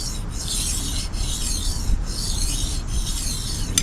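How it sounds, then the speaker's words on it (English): A kitchen knife is drawn across a sharpening stone in steady, even back-and-forth strokes, roughly one gritty scrape per second, close and fairly quiet with no talking. "when you're sharpening it, you are at a fairly shallow angle, especially on a kitchen knife"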